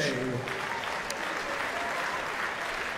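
A darts crowd at the 2012 European Darts Championships quarter final applauds Andy Hamilton after a near 180, a steady, fairly distant wash of clapping under the hall's murmur.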